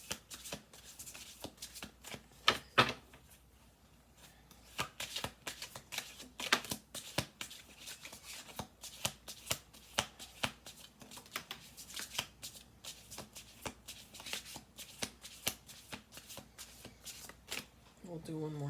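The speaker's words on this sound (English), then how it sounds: "We'll do one more shuffle." Cards are shuffled over and over, rapid crisp riffles and flutters, close up and continuous, with a pause near the start.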